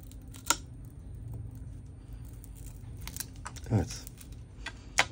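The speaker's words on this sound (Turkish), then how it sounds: "Hafif böyle küçük çift taraflı bantları sökelim." Small strips of double-sided tape are peeled away inside a Xiaomi Mi 10 Ultra smartphone during a battery replacement, giving faint sticky crackles and a few sharp ticks over a low hum, with quiet talk.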